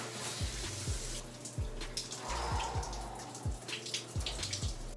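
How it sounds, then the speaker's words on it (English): A cold shower runs at home, a quiet steady spray of water with faint rhythmic low thumps and splashes underneath and no talking. "I am now going to take a cold shower"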